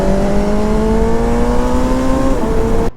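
A BMW M1000R naked motorcycle with an S1000RR-derived engine, loud and close, holding a high steady rev with rising harmonic whine before the sound drops away sharply at the end.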